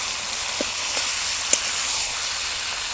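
Steady broadband hiss of chicken frying in spicy masala in a wok, continuous and fairly loud throughout, with a few faint taps of a utensil and one small sharp click near the middle, no talking.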